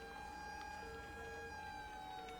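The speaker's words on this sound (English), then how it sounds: "A lot of sirens." Emergency sirens in the city-building game Cities Skylines, several overlapping steady wailing tones heard faint and distant beneath a constant city hum.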